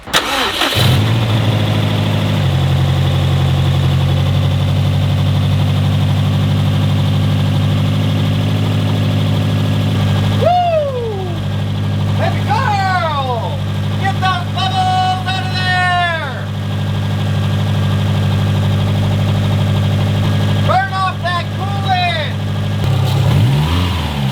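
A 2005 Subaru STI cranks and fires up after an ECU relearn reset, then settles into a loud, steady idle with a deep rumbling note that holds for over twenty seconds, while a few brief voices come and go.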